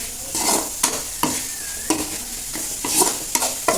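Ingredients for mutton kuzhambu are sautéed over a medium flame, making a continuous sizzle broken by repeated, rhythmic scraping strokes of a spoon stirring in the pan, close and clear.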